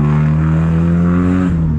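A 1999 Honda Civic with a straight pipe exhaust holds a loud, steady high rev, a raw buzzing engine note close by that dips briefly near the end, with no talking.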